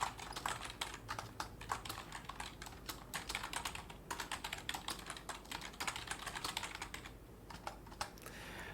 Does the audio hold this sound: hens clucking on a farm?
no